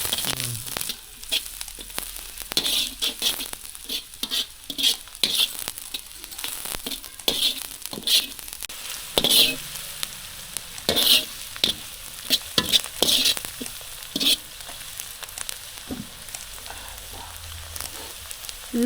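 Chopped onion frying in a pan for veg Manchurian, a constant close sizzle with frequent scraping and clattering stirs, no talking over it.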